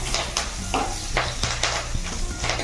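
Desi-style cabbage and potato curry (kobi aloo tarkari) sizzles and crackles steadily in a hot pan, with brief bursts of spatter and soft stirring scrapes throughout.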